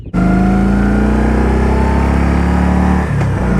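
A 2023 Kawasaki Vulcan Voyager 1700 bagger pulled hard at full throttle, a loud, close, sustained engine drone with a steady low rumble that holds its pitch before easing slightly near the end.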